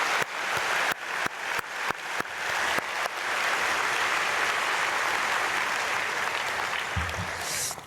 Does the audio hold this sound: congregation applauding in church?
yes